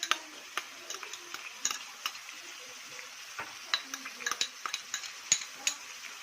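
Finely minced onion seasoned with salt and pepper fries in a pan with chicken, a soft sizzle punctuated by sharp clicks of a utensil stirring and tapping against the metal, close and fairly quiet.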